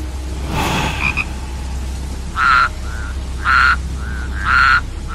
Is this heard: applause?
no